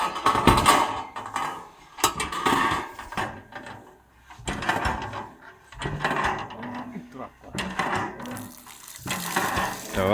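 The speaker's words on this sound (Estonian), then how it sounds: "Teeme esimese pumpamise." A new stainless-steel hand pump on a 14.5 m village well in Orava is worked for its first pumping, giving repeated creaking, clanking mechanical strokes in an irregular rhythm, close and fairly loud, with people talking in between.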